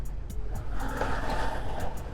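A 2003 Suzuki SV 650 motorcycle engine rumbles low and steady as it shifts into second gear on a road, mixed with wind buffeting and faint ticking.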